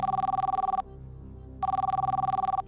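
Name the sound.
telephone ringing on a game show phone-a-friend call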